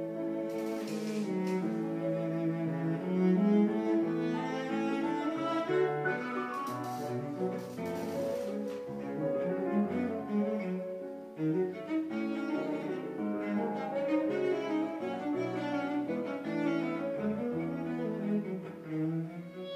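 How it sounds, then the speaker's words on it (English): A piano trio plays a lilting waltz variation from Tchaikovsky's Piano Trio, with piano, violin and cello flowing continuously at a steady, moderately loud level and no voices. "out of nowhere, Tchaikovsky manages to summon the image of a ballroom in a"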